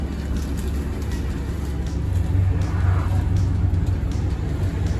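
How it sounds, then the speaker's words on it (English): Steady low rumble of a dolmus minibus engine and road noise during a ride into Fethiye from Calis, continuous and fairly loud throughout with no talk. "We're on the Dolmus and we're heading back into Fethiye from Calis"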